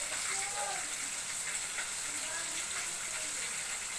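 Chicken fries in a hot pan, giving a steady, hissing sizzle that stays fairly faint and even throughout, with no voices over it.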